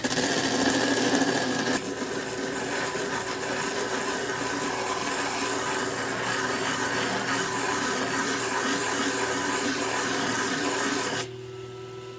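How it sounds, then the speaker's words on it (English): A Dugway thunder egg ground on a diamond flat lap at the first 180-grit stage, a continuous wet whirring hum with steady gritty scraping, close and even, stopping abruptly near the end. "we're going to do the first stage, shaping and grinding"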